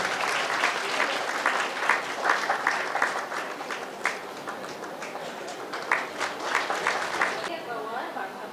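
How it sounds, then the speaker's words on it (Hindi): Audience applause at a children's prize announcement during a Good Friday spoon-race event, steady crowd clapping with scattered sharper claps throughout, loud and continuous, with voices mixed in. "ताली बजाएंगे।"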